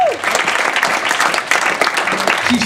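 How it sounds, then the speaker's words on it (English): Sustained audience applause fills a room at a UCMMA 17 Kings of the Cage mixed martial arts press conference, steady and dense clapping from a crowd throughout, with a brief faint voice at the start. "Give that girl a round of applause anyway."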